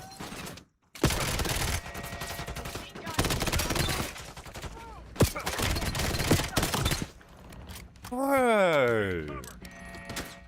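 Bursts of machine-gun fire from a video game, loud and close, in several long rapid volleys separated by short gaps, followed by a sweeping electronic whine.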